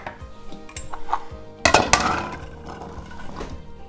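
Dishes clatter as a kitchen bowl is handled for dumping in beans, with scattered light knocks at first, then a louder burst of clinking and scraping that settles into a steady rustle.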